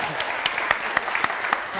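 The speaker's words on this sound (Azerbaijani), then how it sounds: "Alqışlar. Bravo." A studio audience claps at a comedy show, a brief burst of applause with several sharper, louder claps standing out in an uneven rhythm, and a voice briefly heard over it.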